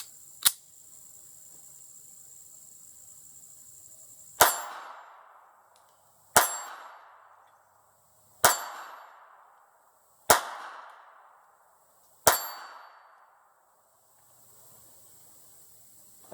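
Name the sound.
Bayard 1908 .32 ACP pocket pistol shots hitting steel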